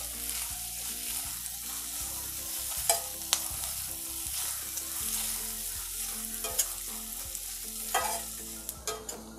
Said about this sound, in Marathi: आता कांदा टाकते, कांदा आपला लाल करून घेऊया।